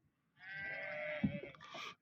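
Sheep and goats bleating on a farm, one sustained, wavering bleat carrying clearly for about a second and a half, followed by a shorter overlapping call.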